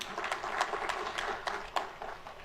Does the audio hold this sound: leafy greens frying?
no